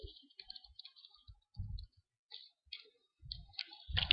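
Computer mouse clicks while a simple form is being built in ASP, a handful of quiet, sharp, scattered clicks at irregular intervals, with no talking.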